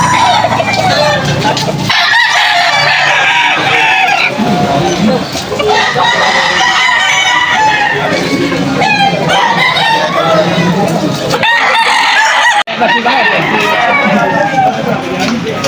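Wet roosters crow repeatedly at a rainy outdoor pet market in Malolos, Bulacan, loud overlapping calls mixed with clucking, market bustle and people talking nearby.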